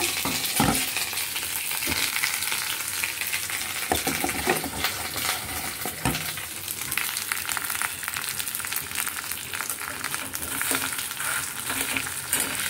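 Potatoes frying in a pan for alur chop make a steady close sizzle, broken by frequent metallic scrapes and clinks of a spatula stirring against the pan.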